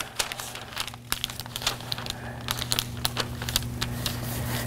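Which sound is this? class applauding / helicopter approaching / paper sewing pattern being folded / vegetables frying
paper sewing pattern being folded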